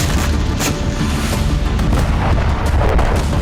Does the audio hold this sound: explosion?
yes